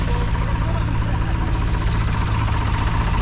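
A tractor engine runs steadily during late corn silage work, a constant low, throbbing drone with a rumbling hum that stays near and fairly loud throughout.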